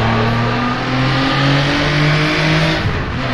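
Jaguar D-Type engine revving hard in the rFactor2 racing game on the Isle of Man Mountain Course, a loud, sustained mid-pitched roar with steady harmonic tones rising and dipping slightly as the throttle is held.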